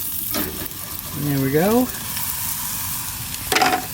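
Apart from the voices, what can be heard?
flapjacks frying on a camp griddle, being flipped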